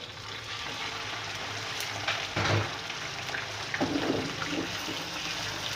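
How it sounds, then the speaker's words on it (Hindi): Chicken pieces hitting a hot pan of sautéed base for chicken korma, a steady sizzle with a louder burst of frying as they go in and another surge a bit later, no talking. "ये सौटे हो गया, अब मैं चिकन डालती हूँ"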